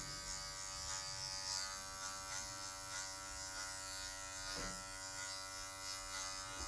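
Electric hair clippers buzz steadily and fairly quietly while cutting afro hair into a mid fade. The motor hum stays continuous, with small shifts as the blade moves across the head.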